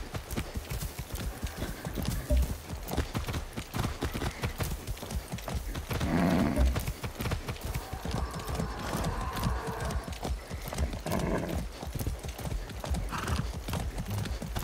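Steady clip-clop of horse hooves from the video game Far Cry 6 at a brisk walking rhythm, close and continuous, with a brief snort or whinny midway.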